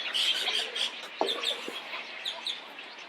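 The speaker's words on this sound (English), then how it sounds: "So you got the birds coming right up to you here" Birds call at a natural bird rookery at an alligator farm, close by, with a series of short squawks and chirps plus a few sharper bursts over a quiet background.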